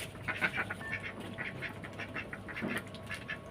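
A small flock of laying ducks eats a prepared feed of rice starch, giving soft, repeated quacks and gabbling calls close by, scattered over a steady background murmur.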